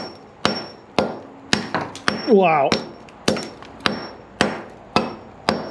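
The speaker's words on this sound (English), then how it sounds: "See if I can jackhammer that out with a hammer and a chisel." Sharp metal-on-concrete hammer-and-chisel strikes by a basement step well, about a dozen in steady succession at close range, with a brief exclaimed word partway through.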